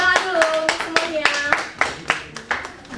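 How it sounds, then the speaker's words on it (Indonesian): Applause in a school classroom during a microteaching lesson: a burst of several hands clapping close by in an uneven rhythm for about three seconds, with some voices underneath. "Tepuk tangan dulu untuk semuanya"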